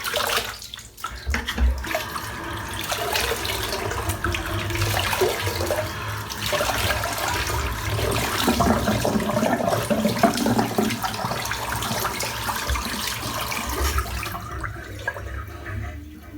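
Water runs steadily from a tap while someone rinses off after a shave, a continuous close splashing rush that fades away near the end.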